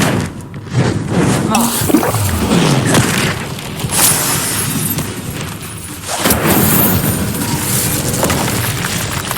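A fire spell cast during combat in Hogwarts Legacy, a dense booming whoosh amid steady loud battle noise and thuds lasting throughout.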